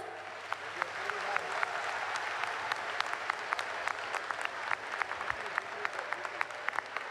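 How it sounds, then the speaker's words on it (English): Audience at a school quiz ceremony gives a round of applause for six teams, steady dense clapping with sharp individual claps standing out throughout, moderately loud and continuous. "all the 6 teams deserve a thunderous round of applause"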